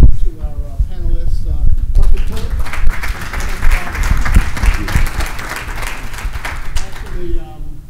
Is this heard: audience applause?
yes